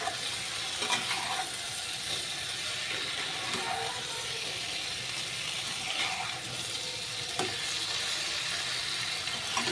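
Tengra fish curry with eggplant sizzles steadily in a pan as it is sautéed and stirred, with a few sharp clicks and scrapes of the spoon against the pan above the continuous frying hiss.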